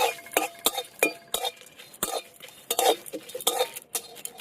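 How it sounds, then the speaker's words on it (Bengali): Whole garam masala (cloves, cardamom, cinnamon) and dried red chillies dry-roasting in a pan, stirred with sharp, irregular scrapes and clinks of a utensil against metal, close and clear with no talking. "গোটা গরম মশলার মধ্যে লবঙ্গ আর তার সাথে এলাচ, দারচিনি আর এখানে রয়েছে শুকনো লঙ্কা, একসাথে ভেজে নেব"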